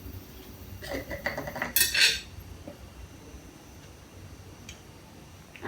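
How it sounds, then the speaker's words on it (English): A metal spoon scooping peanut butter from a jar, a short cluster of clinks and scrapes against the container near the start, then quiet with a faint tap later. "Now I have to take a different spoon and put some peanut butter inside."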